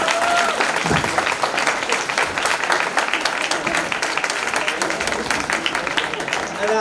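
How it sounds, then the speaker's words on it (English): A full audience gives a sustained, loud round of applause for student presenters at an evening event, a dense wash of clapping lasting the whole stretch with a few faint voices mixed in. "I want to give the presenters one last round of applause and appreciation for what they've accomplished this year"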